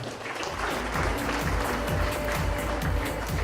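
Audience at the MSA motorsport awards gives a full round of applause, dense continuous clapping in a large room, steady and fairly loud for the whole stretch.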